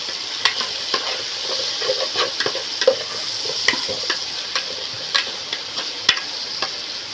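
Tomato pieces sizzle steadily in a hot pan while a spoon stirs them, with repeated sharp scraping clicks against the pan at an irregular rhythm, close and fairly loud, with no talking.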